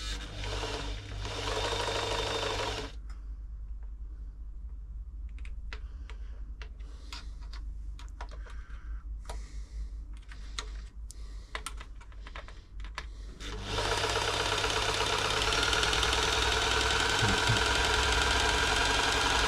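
A New Home 641 sewing machine, freshly oiled after being seized, runs with a rapid ticking mechanical clatter for about ten seconds, set between stretches of louder steady hum.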